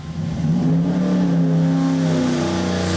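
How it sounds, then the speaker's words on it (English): A modified 2023 Ford 7.3L Godzilla V8 on a dyno climbs hard under full throttle, its loud rising engine note building quickly and holding near and strong to the end, with no talk over it. "When do you ever get to beat on a brand new engine that you've modified?"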